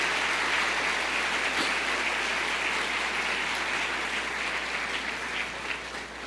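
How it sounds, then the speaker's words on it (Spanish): A church congregation applauding together, a dense sustained wash of clapping that holds steady and eases slightly toward the end, with no talking. "Denle un aplauso al Señor."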